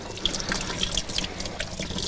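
A kitchen tap runs water steadily over a paper towel, a close, continuous splashing rush with small crackling drips throughout.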